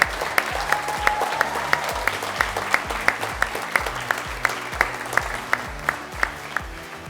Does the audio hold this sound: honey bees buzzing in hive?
no